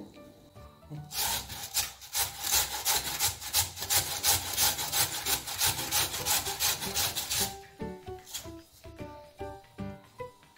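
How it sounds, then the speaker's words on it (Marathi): Potato being grated lengthwise into long shreds for crispy fasting-style aloo chivda, a fast, rhythmic series of loud rasping strokes up close, followed by a few quieter scrapes at the end. "हा आलू मी तुम्हाला थोडा वेळ किसून दाखवते"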